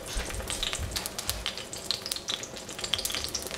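Chard and tofu skin fry in cooking oil: a steady, close sizzle with crackling pops and stirring scrapes throughout, and no talking.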